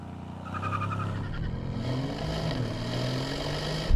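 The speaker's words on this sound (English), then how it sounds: "The exhaust noise isn't too bad." A Mercedes-AMG C63's exhaust rumbles steadily nearby, the engine note rising and shifting as it accelerates, with a sharp burst at the end.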